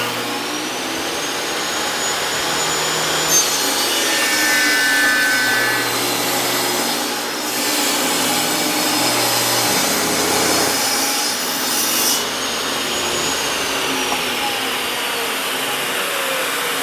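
A saw cutting through a wooden workpiece in a woodworking shop, a loud continuous rasping whine close by that briefly dips twice before running on steadily.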